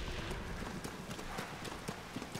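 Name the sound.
horse hooves clip-clopping in video game Tears of the Kingdom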